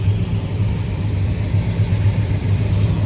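A 1967 Plymouth GTX muscle car engine idles close by with a deep, loping low rumble, steady and loud with slight pulsing throughout.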